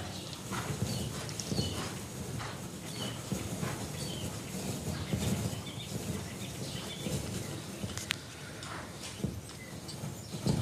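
Slow, steady hoofbeats of a horse walking on soft ground, rhythmic thuds under a constant outdoor background, no one speaking.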